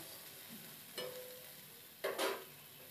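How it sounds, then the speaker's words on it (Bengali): Sliced onion with a pinch of salt fries gently in a pan with a soft, low sizzle, interrupted by two brief scraping strokes of a stirring spoon. "পেঁয়াজটা বেশি ভাজবো না, পেঁয়াজটা হালকা ভেজে নেব"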